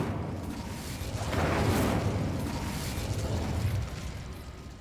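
A fire spell cast in Hogwarts Legacy, heard as a broad whooshing, rumbling burst that swells around the two-second mark and holds steady for several seconds, loud and close, with no voices over it.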